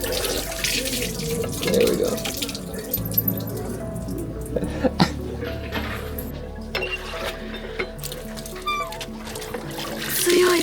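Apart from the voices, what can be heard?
hand-pumped water pouring out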